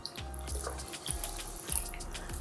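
Water poured into a pot of sweet potato pottage, with low splashes and drips, a few gurgling pours in succession, close and moderately quiet.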